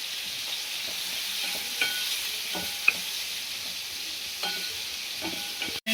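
Garlic, green chilli and onion sizzle steadily in a hot pan of oil, a continuous bright frying hiss with a few soft stirring scrapes and clinks, close and alone with no voices.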